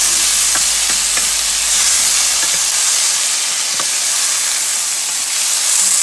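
A pan of chicken with potato, carrots and cauliflower fries with a loud, continuous sizzle and hiss, while a utensil scrapes and taps against the pan in a few irregular stirring strokes nearby.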